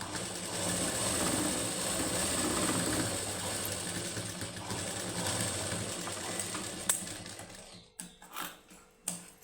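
A sewing machine stitching a straight seam on a plain high-neck blouse, a steady close mechanical whir that runs for seven seconds, then breaks into a few short bursts.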